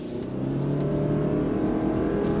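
A 2024 Subaru Crosstrek Wilderness pulls away on asphalt, its engine holding a steady, rising drone close by with no voices over it.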